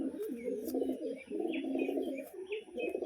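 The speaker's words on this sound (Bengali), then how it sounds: "এটা একটা পাঠা পায়রা রয়েছে" A male pigeon coos in low, rolling phrases, repeated several times close by, with a few faint chirps from other birds in the background.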